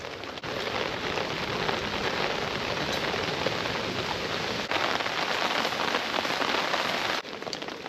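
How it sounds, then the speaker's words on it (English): Steady rain patters down on a surface nearby at a campsite during a storm, a dense, even hiss of drops that continues without a break. "And the rain just keeps pattering down."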